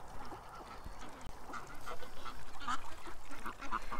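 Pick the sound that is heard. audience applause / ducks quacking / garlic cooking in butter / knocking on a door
ducks quacking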